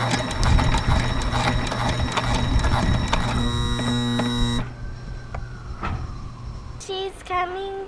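A sewing machine stitches a ripped mainsail, giving a fast mechanical whirring run, then a few slower separate clicks before it stops, with a brief voice near the end.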